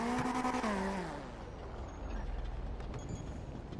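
In a GTA V NoPixel roleplay game, a vehicle's reversing alarm beeps in a quick steady series alongside a falling engine tone, then fades as a low rumble of the motor continues, fairly close.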